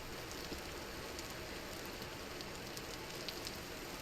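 Steady rain falls in the Vintage Story video game, a faint, even hiss of drops with scattered soft ticks and no voices.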